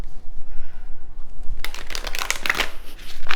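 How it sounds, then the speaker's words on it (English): After a quiet second and a half, a deck of tarot cards is shuffled by hand, with close, crisp riffling and rapid papery flutters that come in bursts, and no voices. "2 more decks to shuffle."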